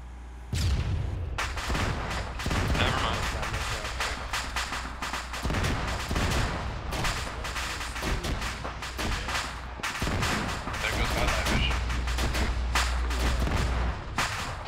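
Sustained gunfire and heavy booms in the military shooter ArmA III during an ambush training exercise, with dense, continuous shots and rolling blasts, loud and close, barely broken for nearly fifteen seconds.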